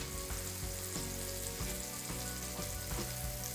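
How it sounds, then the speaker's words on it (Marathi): Onion and tomato frying in oil on a flat iron tawa for a cauliflower masala, a steady close sizzle with a repeating low rhythmic thumping throughout, no voices. "तर हा कांदा आणि टोमॅटोही आपल्याला मऊ होईपर्यंत भाजून घ्यायचा आहे."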